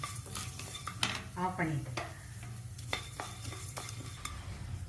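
Coriander seeds dry-roasting in a pan for chutney, stirred with a spoon that scrapes and clinks against the metal in quick bursts, over a low steady hum, with a brief spoken phrase near the end.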